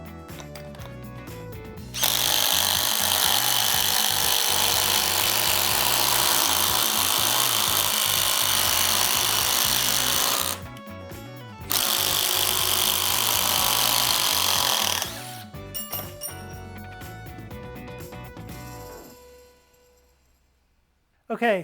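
An impact driver runs in two long loud bursts, grinding a 3/8 by 6 inch lag screw into wood, followed by shorter stuttering impacts before it winds down and stops.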